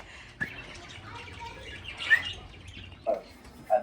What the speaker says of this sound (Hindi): तोते ने सारा को डरा दिया है।